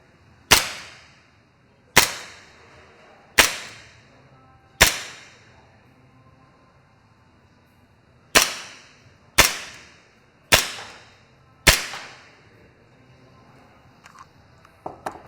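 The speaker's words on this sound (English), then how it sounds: "we're still going to take an audio test both at the slide in the middle of the pistol and at the muzzle end" Echo1 Wolfsbane 1911 gas blowback airsoft pistol firing green gas with 0.20 g BBs: eight sharp, loud snapping shots, mostly about 1.4 seconds apart with a pause in the middle, each followed by a short decaying ring.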